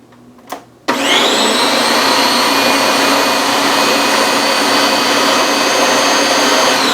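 Blender whirring steadily as it pulses chipotle salsa ingredients, a brief tap and short burst first, then a loud, continuous high-pitched motor roar running uninterrupted close by with no talk.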